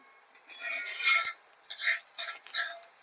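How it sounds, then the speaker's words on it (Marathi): A metal spatula scraping and lifting the edges of steamed rice flour ghavan on a plate, heard as several short, close scrapes and clinks in quick bursts, alone without any talking. "आता याच्यात ना कडा पहिला काढून घ्यायच्या उलटणीने"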